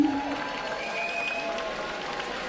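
Applause at a 40th independence gala held by the Permanent Mission of Saint Kitts and Nevis to the United Nations, a moderately faint, steady patter of clapping from the audience, with some faint tonal sounds over it.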